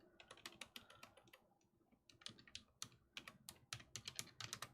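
Quick, irregular bursts of typing on a computer keyboard during a live craft chat, crisp close key clicks in uneven flurries with short pauses and no talking.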